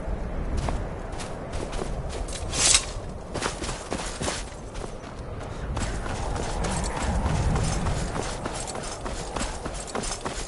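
Horse hooves clip-clop in Skyrim, a steady series of hoofbeats with occasional thuds over a background of game ambience.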